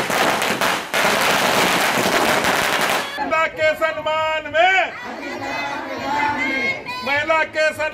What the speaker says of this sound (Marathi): महिलांनी पालिकेतील माजी गटनेते आनंद चंदनशिवे यांच्या संपर्क कार्यालयासमोर एकत्र येत फटाक्याची आतषबाजी करून मिठाई वाटून जल्लोष साजरा केला